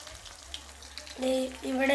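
Chicken frying in a pan, a sizzling hiss that swells loudly after a quieter first second, with brief scraping or stirring bursts on top; no talk.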